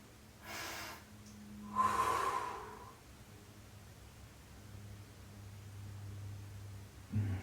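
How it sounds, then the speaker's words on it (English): Deep breaths during a guided stretching session, two soft breathy inhales or exhales close by, the second louder, followed by a quiet low hum of room noise. "Take a nice deep breath."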